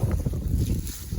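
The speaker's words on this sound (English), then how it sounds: "It's pretty windy out here and it's still cold." Wind gusts buffet the microphone outdoors at a cold homestead beehive site, a loud, continuous rushing roar.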